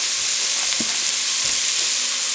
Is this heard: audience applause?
no